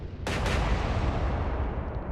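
Heavy naval gunfire from a battleship in the Atlantic Fleet video game: a loud, sharp salvo bursts in and then rumbles on as a long, booming tail with no talk.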